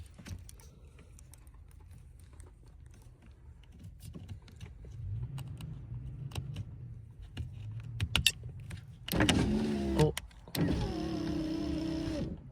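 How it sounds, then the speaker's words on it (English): An electric power window on a 2012-2019 Nissan Rogue SV runs after its master window switch is replaced. A steady motor whir is heard near and clear in two bursts toward the end, with quiet handling noise before them and no talk. "So, try to roll down the window."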